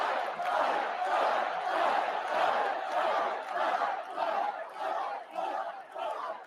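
A large crowd at a political convention shouts a rhythmic chant in repeated surging bursts, loud and dense, with no single voice standing out.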